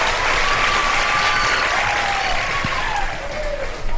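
Steady applause from a studio audience, continuous clapping filling the room for several seconds with a faint murmur underneath.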